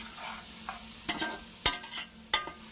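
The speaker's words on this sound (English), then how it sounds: "Give it a little stir." Onion frying in butter in a soup pot for potato leek soup, with a spoon stirring through it in a few sharp scrapes and knocks over a continuous sizzle, close and alone.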